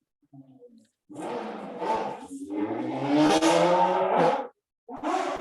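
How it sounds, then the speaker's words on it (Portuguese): A motorcycle engine revs up loudly and roars past close by with a rising, buzzing growl, then cuts off briefly before revving again. "bem agora passou uma moto"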